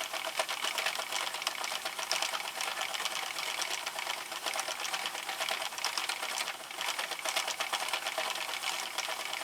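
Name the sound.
Sentro knitting machine being cranked with Lion Brand Scarfie yarn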